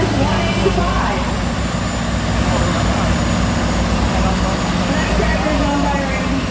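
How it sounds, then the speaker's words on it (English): A 1972 Allis-Chalmers 185 tractor engine rumbles steadily and loudly as it rolls past in a threshing show parade in Minnesota, a continuous low drone with broadband noise throughout. "Eli Holmberg driving of Stacy, Minnesota, on 1972 Alice Chalmers 185."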